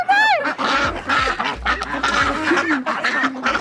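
A duck quacks several times at close range, with a series of short honking calls and rough squawks spaced irregularly, in an outdoor setting in Vietnam.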